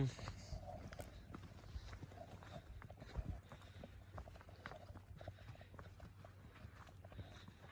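Two buffalo walk through a village, their hooves knocking on the ground in an uneven, steady clatter, while a person talks nearby.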